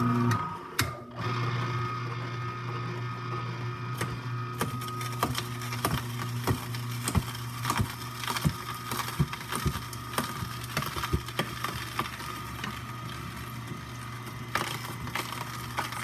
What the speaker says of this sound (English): the juice is kind of coming out down here, and the pulp is just shooting out over on this side